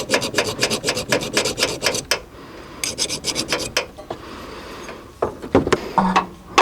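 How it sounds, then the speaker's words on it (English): Metal file rasping rapidly across an electrical connection on a 1986 Ford F-350, a quick run of close, loud strokes, a pause, then another burst of strokes and a few scattered scrapes. "hit that with a file so it has a little bit of a cleaner connection"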